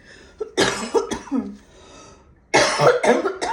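Several harsh, chesty coughs from one person nearby, a cluster of bursts, a short pause, then another pair of coughs.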